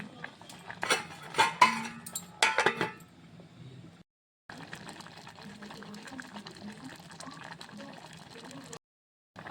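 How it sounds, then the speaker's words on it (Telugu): A metal lid clatters several times onto a cooking pot of sweet pongal, then a softer steady simmer follows with brief silent gaps. "కలుపుకున్నాక మూత పెట్టుకుందాం."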